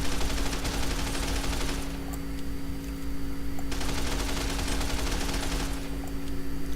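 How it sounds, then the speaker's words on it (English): Fully automatic, fully modded service rifle firing in Fallout: New Vegas, with loud continuous rapid bursts of gunfire filling the clip and a brief lull between strings of shots. "a fully modded, fully automatic service rifle in action"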